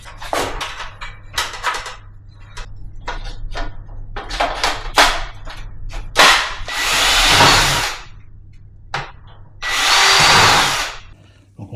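A power drill bores holes during home renovation of an apartment adapted for disability, several short bursts, then two longer sustained whirring runs, loud and close, with small clatters of handling between.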